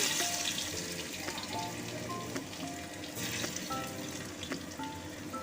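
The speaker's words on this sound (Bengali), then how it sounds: "তেলে দিলাম শুকনো লঙ্কা আর কালো জিরা ফোড়ন দিয়ে দিয়েছি এবার একটু দিচ্ছি রসুন" Garlic frying in hot oil with dried red chilli and black cumin seeds for a jute-leaf dish, giving a steady, close crackling sizzle with small pops throughout.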